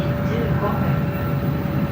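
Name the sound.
Shinkansen train at Nagano Station platform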